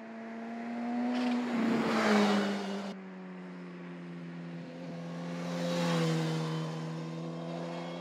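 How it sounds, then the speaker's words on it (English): A 2020 Suzuki Katana motorcycle engine hums steadily while riding, with a rise in revs around the second and sixth seconds as the tone shifts, fairly close and continuous with no talk. "riding the 2020 Suzuki KATANA"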